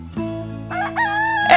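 A rooster in a village in the Modena Apennines gives a loud, close cock-a-doodle-doo, rising into a drawn-out crow that ends with a strained peak.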